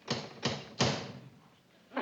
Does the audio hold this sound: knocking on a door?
yes